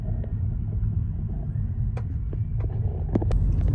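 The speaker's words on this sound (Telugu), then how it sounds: "ఈ ట్రాఫిక్ ఏంటో." Road traffic heard from inside a car, a low steady engine and tyre rumble with a few short higher-pitched sounds from nearby vehicles toward the end.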